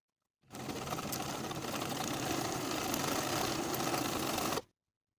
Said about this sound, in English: Then I'll sew from the bottom to the top, leaving thread tails so I can tie it in a knot.